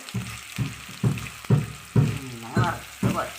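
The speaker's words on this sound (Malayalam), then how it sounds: "ചെറിയ തീയിലിട്ട് വേണം വറുത്തെടുക്കാനുള്ളത്." Masala-coated fish fries on a low flame, sizzling in a soft, pulsing rhythm with bursts about every half second and faint bubbling in between.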